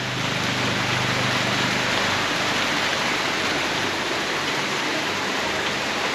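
Heavy rain pours down in a dense, continuous hiss, steady and loud from start to finish with no voices.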